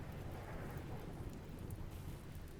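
Steady rain pours down with low thunder rumbling underneath, a continuous storm in the colony survival game RimWorld with no voices.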